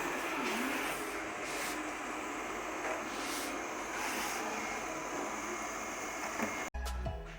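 A Yeedi Vac Hybrid robot vacuum mop runs across the floor with a steady, close whooshing motor hiss, ending in a sharp click and a shift in the sound.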